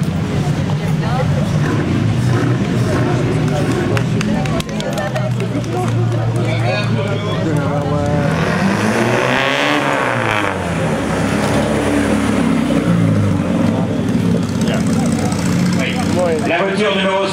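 A rare Bugatti Type 57 Atalante concours d'élégance car at the Molsheim Bugatti festival, its engine running and revving loudly nearby amid a crowd, with a voice talking over it throughout.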